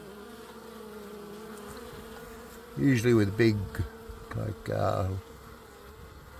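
Honey bees at a hive make a steady, low, continuous buzzing drone throughout, while someone talks over it for a few seconds in the middle.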